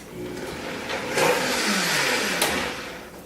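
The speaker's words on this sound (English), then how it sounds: "I'm going to blend my mixture again just to incorporate all the ingredients" A blender whirs through a raw vegan chocolate cream mixture of cacao butter and coconut oil, a loud motor whine that swells and shifts in pitch as the blades churn, running the whole time without voices.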